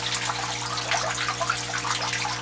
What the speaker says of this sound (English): this is the flow that I have going in